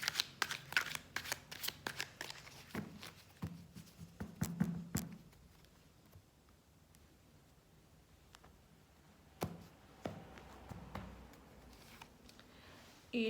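Tarot cards are shuffled in quick, crisp riffling bursts up close, then handled more quietly with soft slides and a few taps as cards are drawn.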